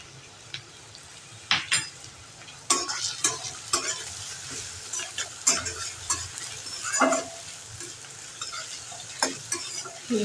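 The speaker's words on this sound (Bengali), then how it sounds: "ভালো করে ভেজে নেব" Chopped onion and whole cumin frying in oil, a soft steady sizzle broken by repeated clinks and scrapes of a spatula stirring against the pan, close up with no talking.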